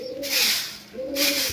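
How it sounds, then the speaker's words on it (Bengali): Pigeons coo twice in close succession, each a low rolling call, loud and near, in a dim loft with many pigeons. "অনেক পায়রা তো দেখুন"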